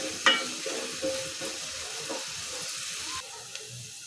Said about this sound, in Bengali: এখন ভেজে নিব একটু তেলে।